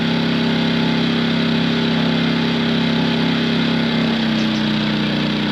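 An Engel 2500 portable generator engine running steadily while warming up, a loud, constant close-up drone with an even hum and no variation in pace.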